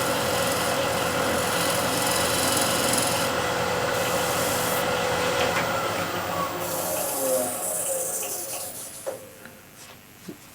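A negative rake scraper shaves a wood surface into fine dust, giving a continuous close rasping scrape that holds steady, then thins and trails off near the end.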